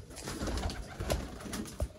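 A pigeon, a rare breeder bird, coos softly in a few low, rounded bursts close by, over a steady background hiss.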